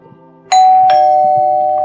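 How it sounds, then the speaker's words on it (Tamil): A household doorbell chimes loudly, a two-note ding-dong whose second tone rings on and slowly decays, with faint background activity before it. "யாரோ பெல் அடிக்கிறாங்கம்மா, கேட்கலையா?"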